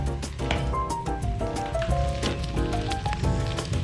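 Sausage browning in an Instant Pot for copycat Zuppa Toscana soup, a steady crackling sizzle of frying meat running throughout, close and moderately loud, with a faint tonal background underneath.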